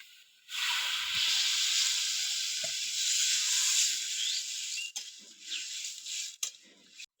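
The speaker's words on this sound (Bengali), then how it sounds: "এবার আমি জল দিয়ে দেবো।" Water poured into a hot pan of spiced shol (snakehead) fish curry with ground cumin, chili powder and green chilies. A loud hiss bursts in abruptly and holds steady, then breaks into fading intermittent sputters.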